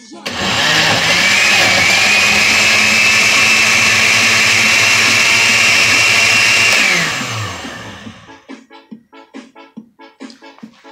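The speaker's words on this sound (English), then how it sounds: "And of course, blender." A kitchen blender whirs loudly and steadily as it blends cucumber ice cream with milk, a harsh motor roar holding for about seven seconds before winding down, followed by clattering and handling noises.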